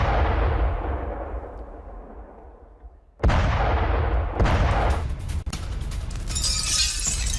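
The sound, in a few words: Russian attack explosions on a highway in Ukraine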